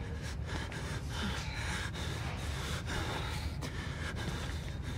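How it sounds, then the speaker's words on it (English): A character in the horror game Outlast breathes heavily, with ragged, rapid gasping breaths that run continuously and sit loud and close. "This nigga breathing hard, this scaring me."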